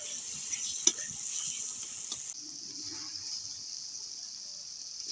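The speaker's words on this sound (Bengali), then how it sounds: "এবার মশলাটা ভালো করে ভেজে নেব।" Spiced masala frying in a pan for Bengali chicken kosha, a soft, steady sizzle with faint stirring scrapes and one sharp utensil tap near the start, quiet and continuous throughout.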